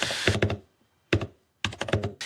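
Keys clatter on a new keyboard with transparent switches, struck close and crisply in short bursts of clicks separated by brief silences.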